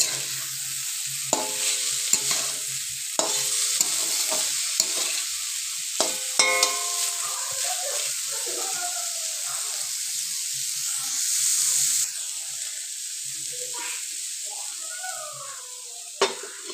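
Capsicum stir-frying in a pan for restaurant-style egg chowmein, with a continuous sizzle and repeated sharp clinks and scrapes of a spatula against the pan, close up and without talk.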